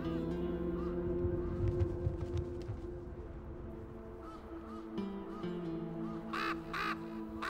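Ravens call across open Canary Islands country in breeding season, with harsh croaking caws standing out near the end over a steady low background hum.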